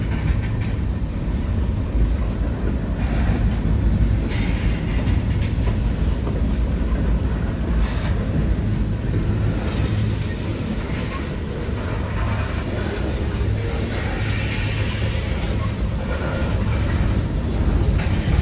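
Freight train with propane tank cars and a DPU locomotive at the rear rolling past at close range, a loud, steady rumble with rhythmic wheel clatter and scattered squeals.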